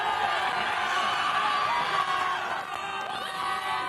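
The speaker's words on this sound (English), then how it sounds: "These fans here have not lost hope. They are so excited to cheer on their team." A student section of fans at a high school football game cheers and shouts continuously, a dense, loud crowd roar with scattered whoops and voices throughout.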